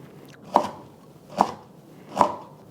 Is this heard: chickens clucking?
no